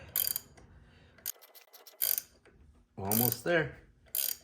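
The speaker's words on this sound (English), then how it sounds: "And then our little Torx cap bolt will screw on there." A ratchet tightening a small Torx cap bolt on the water pump of a 2007 Northstar Cadillac DTS, short bursts of quick metallic clicking between pauses, close by, with someone briefly speaking over it.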